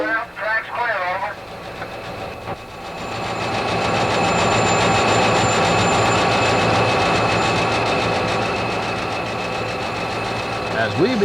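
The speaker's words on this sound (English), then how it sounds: "As we begin our southbound cab ride" A Clinchfield train on a southbound run out of Erwin, heard from inside the cab: a loud, steady engine drone with rail rumble building after a brief radio-like crackle at the start, the noise holding continuously to the end.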